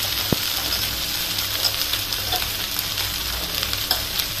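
Paneer kofta gravy with red chili, turmeric and coriander powder fries in oil in a close, steady hiss and crackle, with a few brief knocks of a spoon stirring through it.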